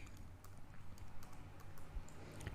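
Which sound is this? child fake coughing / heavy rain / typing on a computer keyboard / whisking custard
typing on a computer keyboard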